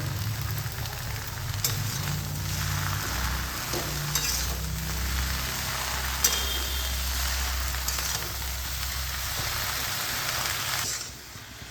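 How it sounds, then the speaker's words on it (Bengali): Gourd leaves fry in hot oil with garlic and chili in a kadai, giving a loud, steady, close sizzle with occasional stirring that fades out near the end. "শাকটাকে আমি এই তেলের মধ্যে রসুন আর লঙ্কা দিয়ে ভেজে নিচ্ছি"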